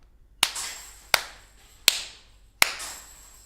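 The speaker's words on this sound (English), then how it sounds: "give me your most uncomfortable looking clap" Four separate hand claps ring out at an even, unhurried pace, sharp and close, each one trailing off into a short room echo, with no one talking between them.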